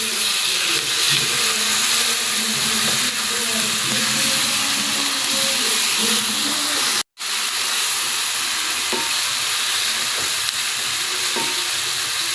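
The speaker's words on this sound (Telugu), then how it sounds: "ఇప్పుడు ఇందులో పసుపు, అల్లం వెల్లుల్లిపాయ పేస్ట్ని వేసాక పచ్చివాసన అంతా పోయేంత వరకు ఫ్రై చేయాలండి" Turmeric and ginger-garlic paste fries in hot oil for a fish curry, a loud, continuous close sizzle and hiss with a brief dropout midway, no voices.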